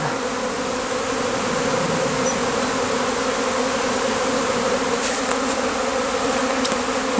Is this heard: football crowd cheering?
no